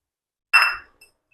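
A lump of alum set back into a vessel, one sharp glassy clink followed by a faint second tap, close and clear in silence.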